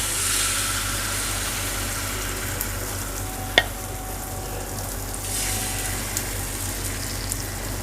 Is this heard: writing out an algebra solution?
no